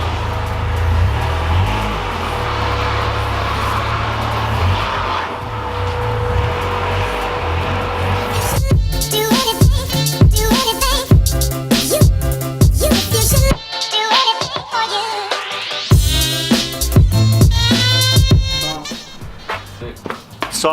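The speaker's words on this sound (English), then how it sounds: "we just went for a test drive as you just would have seen, but there's a weird rattling" A car on a test drive, idling steadily before pulling away with the engine revving and rising through acceleration, loud and close, with rapid rattling bursts over the running engine.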